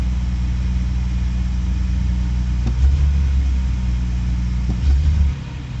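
The V12 engine of a 2000 Jaguar XJ12 idles with a loud, steady low rumble, then begins to misfire. Two uneven, heavier surges break into the idle before it settles lower. No one speaks.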